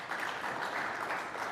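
A conference audience at a Pan African conference applauds a speaker, with steady, moderately faint clapping from a crowd and no voices on top.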